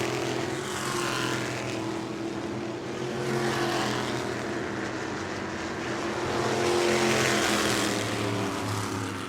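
Race cars roar around the track at New Smyrna, the engine noise swelling and fading in broad waves as cars pass, loud and continuous with no voices.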